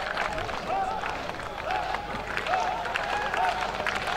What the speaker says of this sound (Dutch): Hij krijgt een applaus